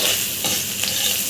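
Broken rice stir-fried in mustard and soybean oil sizzles loudly and steadily in a pan, with a couple of soft scraping stirs and no voices.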